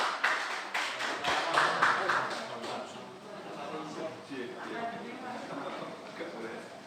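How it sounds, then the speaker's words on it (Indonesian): Applause from an audience at a university send-off ceremony for community service students, a burst of clapping that starts loud and thins to a lighter patter, with voices talking over it. "Beri tepuk tangan yang meriah pada diri sekalian."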